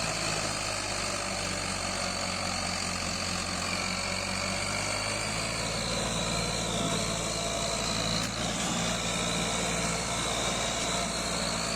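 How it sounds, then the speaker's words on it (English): Ford 3610 tractor strains to pull a heavy load of potatoes, its diesel engine droning steadily and loudly nearby with a constant low rumble and whining overtones throughout. "here we have a Ford 3610 tractor. This one's barely got enough power to move it all"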